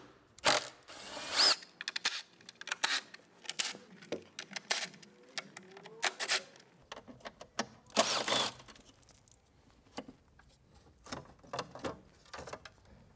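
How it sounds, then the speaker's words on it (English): An impact driver with a 10mm socket rattles in short bursts of clicking, ratcheting sound at close range while loosening the strut brace bolts on a BMW N20 engine, with no talk. "Got my 10mm on impact driver, so we'll loosen these up."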